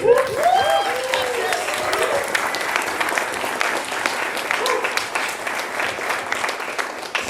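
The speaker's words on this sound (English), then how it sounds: "if we can give Mr. Jesse Hamilton a big round of applause." An audience at a concert breaks into a full round of applause, dense and sustained, with a few cheering voices rising at the start before the clapping carries on evenly.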